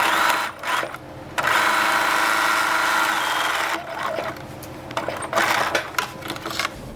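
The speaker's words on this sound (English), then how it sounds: "Don't forget to backstitch." A sewing machine stitches a dart with a steady mechanical whir, stops briefly, then runs short backstitch bursts and stops again, close and clear with no talking.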